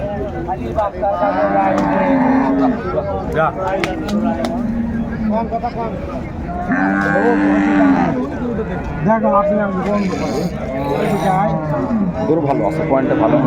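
Cows and calves at a village cattle market low repeatedly, several moos rising and falling at close range over a steady crowd murmur while people talk nearby.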